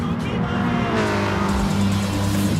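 Front-wheel-drive Volkswagen Scirocco racing in a video game: a steady buzzing engine drone with shifting pitch and light tire squeal, continuous and close.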